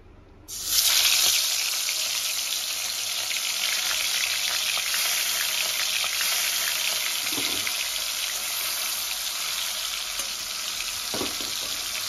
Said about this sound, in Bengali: এবার হচ্ছে মাছ ভাজার পালা।